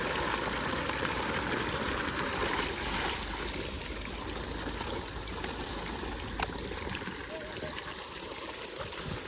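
Irrigation water runs through a farm field where cucumbers are grown, a steady, close rushing and trickling wash that continues throughout, with voices faintly present beneath it.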